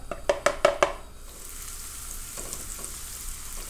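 Crushed garlic and onion sauté in a hot pan, a few sharp clinks and stirring knocks up front giving way to a steady, soft sizzle, with no talking.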